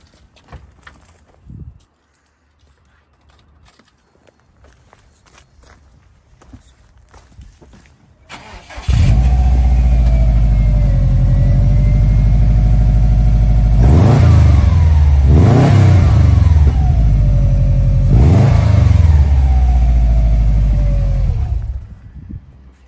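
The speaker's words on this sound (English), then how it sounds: "Do you want to start it up? Yeah, we can start it up." A 2004 Subaru Forester STI turbo engine cranks and catches after a quiet stretch with faint footsteps, then idles loud and close, blipped by two sharp revs before cutting off near the end.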